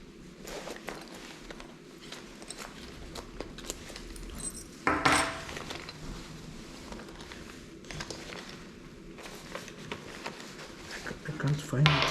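Metallic clinking and rattling of keys during a search for a hotel room key, intermittent with one louder jangle midway, mixed with shuffling and a voice talking nearby.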